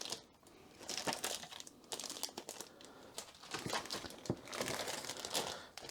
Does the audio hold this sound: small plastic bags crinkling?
yes